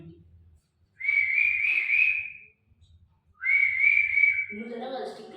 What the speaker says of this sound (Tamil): நம்ம விசில் வச்சு கூப்பிட்டா